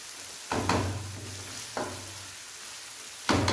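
Aloo gobi, potato and cauliflower, cooking on a low flame with a soft steady sizzle, broken by a few brief louder bursts of frying noise.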